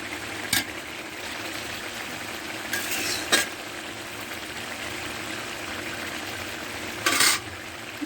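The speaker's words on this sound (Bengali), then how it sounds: "এই দেখেন চিংড়ি মাছ দিয়ে শসা ঝোল, শসা রান্না করছি দেখছেন" A shrimp and cucumber curry cooks village-style in a pan, giving a steady low sizzle and bubble. A few sharp clinks of a utensil against the pan break through, and no one speaks.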